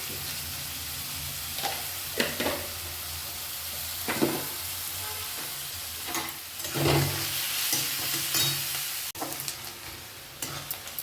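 Onions frying in a pan after sugar is added for a chicken dak bungalow curry, with an even sizzle and scattered stirring scrapes and clatters over about eleven seconds, close and moderately loud.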